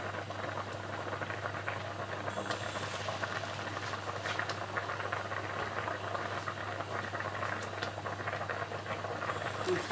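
Spaghetti boiling in a pot of water gives a steady close bubbling patter over a low constant hum, continuous and moderately quiet with no talk.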